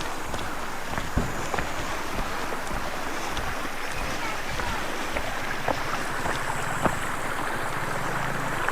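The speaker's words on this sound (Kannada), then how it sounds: "ಇಲ್ಲಿಂದ ಡೌನ್ ಹೋಗ್ತಾ ಇದೆ ನೀರು" Water pours down from a height at a scenic outdoor spot, a steady broadband rush with a gusty, windy texture running continuously throughout, with no clear pauses.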